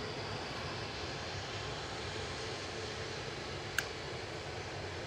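A Virgin Atlantic Airbus A330-300 rolls out after landing at Manchester Airport, heard as a steady, distant, broadband engine roar with one brief click partway through.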